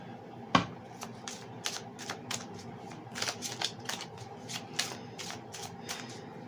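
Tarot cards handled on a table: a dense run of crisp riffling and flicking snaps, shuffled in quick irregular bursts, close and fairly quiet.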